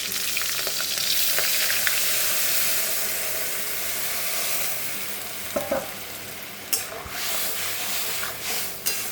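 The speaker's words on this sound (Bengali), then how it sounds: "সর্ষেটা ভালো করে ফুটে এসছে" Mustard paste with ground chilli cooking for mustard hilsa, sizzling and bubbling loudly and steadily in a pan, with a few stirring knocks and scrapes toward the end.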